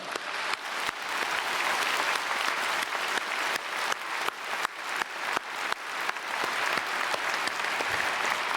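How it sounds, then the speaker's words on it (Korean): A church congregation applauds steadily for several seconds, a dense, sustained patter of many hands clapping with no break. "우리 자녀들에게 박수하겠습니다"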